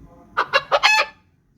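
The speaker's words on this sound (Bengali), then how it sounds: "চিকেন" Rooster crowing from an animal sound effect: four quick rising syllables ending in a held note, loud and close, then quiet.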